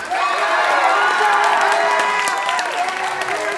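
Dense, loud applause and cheering from a concert audience for a group of musicians at a spring school music concert, with scattered whoops, sustained throughout.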